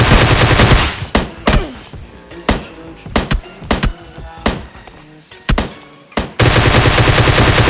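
Gunfire in the mobile battle-royale game PUBG Mobile Lite: loud, dense firing at the start and end frames a run of sharp, separate shots and short bursts, close and punchy.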